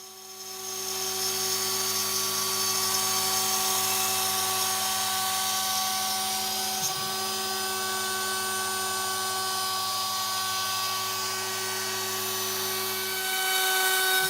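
A CNC machine carves the truss rod slot into a guitar neck blank, a loud, steady high-pitched cutting whine that runs continuously with a brief dip midway and rises slightly at the end.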